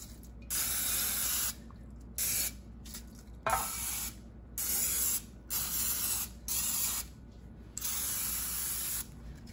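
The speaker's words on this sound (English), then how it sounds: "I'm gonna spray my pans down with some non-stick spray" Several short bursts of non-stick cooking spray hiss in quick succession onto bread pans, close and steady, separated by brief pauses.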